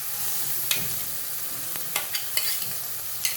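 Chicken masala paste being sautéed in a pan, a constant close sizzle broken by several sharp scrapes and knocks of a spatula stirring, with no voices.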